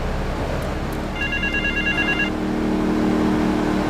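A telephone rings in a short electronic trill over a steady engine drone in Grand Theft Auto 3, with no one speaking.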